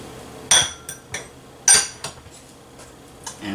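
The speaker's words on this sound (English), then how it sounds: "And we're just going to whisk that right in." A whisk works cheese into a roux sauce in a pan. A few sharp metallic clinks and taps ring out, separated by quiet gaps.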